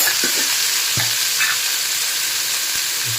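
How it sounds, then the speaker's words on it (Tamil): Cubes of paneer fry in ghee for paneer biryani, producing a loud, continuous sizzle with a couple of soft stirring knocks and scrapes against the pan. "பன்னீரை கொஞ்சம் ஃப்ரை பண்ணிக்கலாம். அதுக்கு கொஞ்சம் நெய் போட்டுக்கோங்க."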